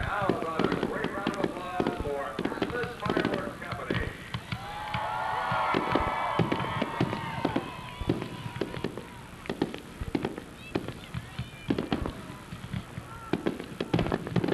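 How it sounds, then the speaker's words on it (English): Rapid sharp cracks and pops of fireworks bursting in dense succession at a wrestling event at Thompson Speedway, with a crowd and voices mixed underneath throughout. "All the beautiful fireworks."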